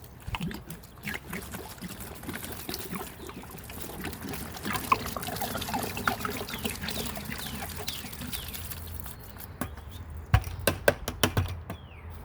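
Half a gallon of alcohol is poured from a plastic jug onto cannabis trim in a plastic bucket, making a close gurgling, trickling splash that runs on steadily before a few sharp knocks and clunks near the end.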